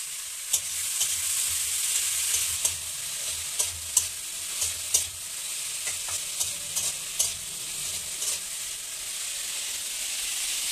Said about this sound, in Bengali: এখন হচ্ছে পেঁয়াজ কলি আলু ভাজা